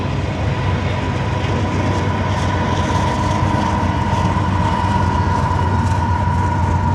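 A long freight train rumbles steadily past nearby at Glenbow Ranch Park on a snowy day, a loud continuous roar of wheels and cars with a faint hum and no voices.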